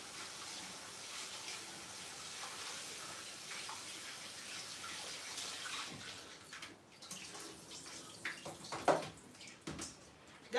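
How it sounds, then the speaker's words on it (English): Rice being washed by hand for a chicken stew, water running and sloshing steadily into a bowl before breaking into irregular splashes and swirls as the grains are rinsed of starch. "I'm washing the rice"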